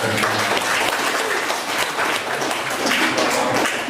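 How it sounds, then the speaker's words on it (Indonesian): Sustained, dense applause from a church congregation honoring the choir at a religious vesting ceremony in Yogyakarta; steady clapping fills the whole stretch with no break. "kita beri aplaus untuk kornya"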